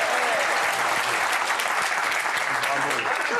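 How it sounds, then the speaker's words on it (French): A TV studio audience on a French talk show applauds steadily and warmly as a guest is welcomed, continuous dense clapping with a voice talking over it. "Sarah Knafo est avec nous, on peut l'applaudir"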